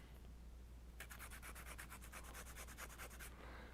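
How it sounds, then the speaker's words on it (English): Quick, rhythmic scratchy rubbing strokes of sandpaper against a rolled paper blending stump, about a dozen rapid back-and-forth passes, close and faint, with no speech. "Roll it while I'm sanding it, and again, clean that up."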